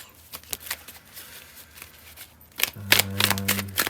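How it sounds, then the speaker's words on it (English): A deck of tarot cards shuffled close by in quick riffling bursts with soft taps, ending in a louder, denser run of rapid card flutters. "if you don't like the shuffling, please feel free to skip ahead."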